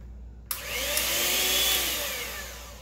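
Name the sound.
blender grinding cold cream for mango mousse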